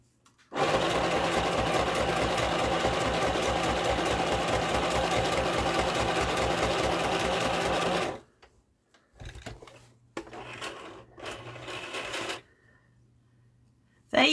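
A sewing machine stitching runs steadily and loudly for several seconds with a fast mechanical rhythm, then stops and restarts in two shorter bursts separated by brief pauses.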